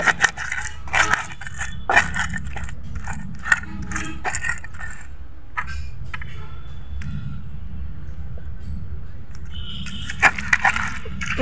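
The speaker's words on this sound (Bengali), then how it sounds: "ভেজে নেওয়া পটলগুলোকে ভালোভাবে ঘটনার সাহায্যে এভাবে বেটে নিতে হবে।" Fried whole pointed gourds crushed with a wooden masher: crunchy, squelching pounding strokes that are dense and fairly loud for the first few seconds, then thin to a quieter, steadier mashing, with no talk.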